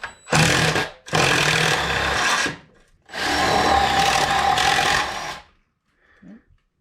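Impact wrench working on a part of a Yamaha Phazer snowmobile, loud close bursts of rapid hammering whir in three runs with short pauses, ending in near silence.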